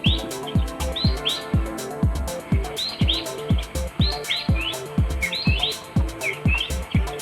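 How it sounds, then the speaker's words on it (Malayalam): Birds chirping and tweeting repeatedly in quick, bright bursts around a flowering garden of a traditional Kerala house in Manjeri, with a steady rhythmic thumping underneath throughout. "ഈ ചെടികൾ പൂക്കളൊക്കെ ഉണ്ടായതുകൊണ്ട് ഇങ്ങനെ വരുന്നതാണ് കിളികൾ"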